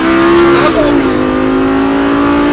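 A Lamborghini Gallardo accelerates on the La Ferté-Gaucher race circuit, its loud, close engine note holding steady with a slight pitch shift partway through.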